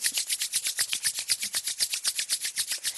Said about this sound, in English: Press the hands together. Allow your heat in your hands to be there. And start to rub the fingertips.